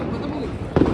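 Diwali firecrackers crackle and pop at home near the stairs, a sharp burst arriving near the end over a steady background of family voices and bustle.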